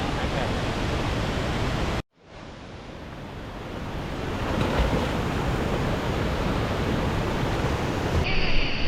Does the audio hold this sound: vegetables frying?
no